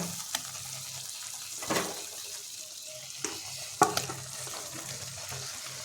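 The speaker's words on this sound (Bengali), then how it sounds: "এখন আমরা কড়াইয়ের উপরে যোগ করে দেবো ভেজে রাখা এঁচোড় আর আলুগুলো" Fried jackfruit and potato pieces go into a masala gravy in a kadai, setting off a continuous soft sizzle with several sharp knocks and scrapes from the ladle, heard up close without any talking.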